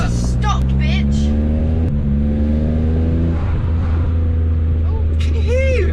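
Citroen C1 fitted with a loud aftermarket exhaust, a steady, close, heavy engine drone with a couple of sharp pops near the start, while people talk over it.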